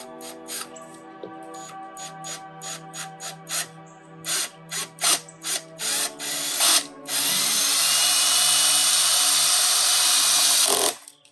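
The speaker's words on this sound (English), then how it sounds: "So now I am just going to screw this in place." A power drill drives screws into a wooden garden arbor for a climbing rose, starting with a rapid series of short trigger pulses that build into one long steady run, close and loud, with no talking.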